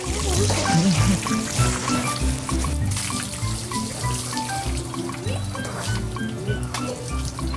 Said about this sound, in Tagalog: Madalas din daw si RB naiinitan, kaya 6 na beses kada araw naliligo